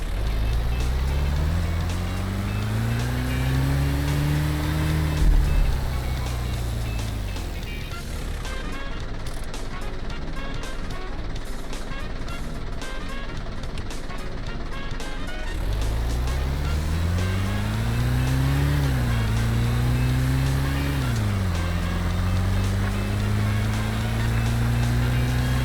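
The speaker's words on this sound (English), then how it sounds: "It's time to test acceleration and top speed using Gearbox Pro." Car with a Gearbox Pro in the Roblox game A Dusty Trip accelerating, its engine whine climbing in pitch through several gear shifts, dropping to a rough idle-like stretch, then revving up again with more shifts, loud and close.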